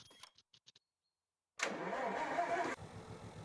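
A diesel locomotive engine starts up in the Infinite Rails game: a few soft clicks, a pause, then an abrupt loud crank into a rumbling idle that settles lower.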